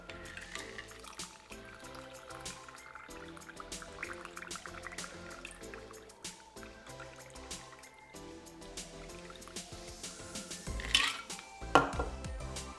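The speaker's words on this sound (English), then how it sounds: "Add crushed ice to your hurricane glass and pour" A Painkiller cocktail poured over crushed ice into a hurricane glass, a faint liquid trickle with light clinks of ice and glass, plus a couple of sharper clatters near the end.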